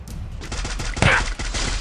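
Gunfire in the Free Fire video game, a quick rattle of close, punchy shots in rapid succession, with one louder blast in the middle of the short burst.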